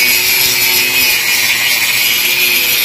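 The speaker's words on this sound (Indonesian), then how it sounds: "Dan sekarang sudah mulai digurinda sama Om Kodel." An angle grinder works on the right-side body panel of a stripped vehicle, a loud, close, continuous high-pitched grinding whine that holds steady throughout without speech.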